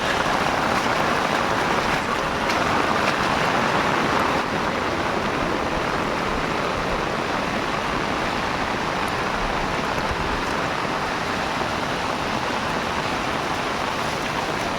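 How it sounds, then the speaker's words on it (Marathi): Heavy monsoon rain in the Konkan region mixes with rushing runoff water, a loud, constant broadband roar that stays steady throughout with no voices. "एवढा पाऊस पडतोय"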